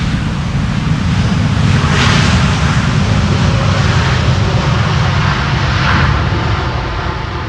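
An Airbus A330 rolls out after landing on runway 18R at Amsterdam Schiphol, giving a loud, steady, broad jet roar that fills the whole stretch with little change and no voices.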